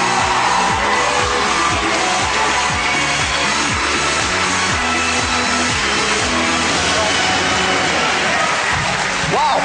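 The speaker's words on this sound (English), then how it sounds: "please give them a huge round of applause" Loud, sustained audience applause and cheering for the Britain's Got Talent 2009 semi-finalists in a large studio theatre, a continuous roar of clapping with whoops and crowd noise over a low rumbling hum.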